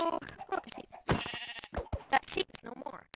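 Sheep bleating in Minecraft, short game-animal calls heard under continuous close talk from a player chatting over gameplay.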